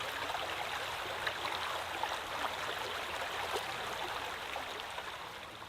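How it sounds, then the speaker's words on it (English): A woodland stream flowing beside a campsite, a steady, close rushing and gurgling of water that continues unbroken throughout. "Our site is nestled between a pond with a small beach and a beautiful woodland stream."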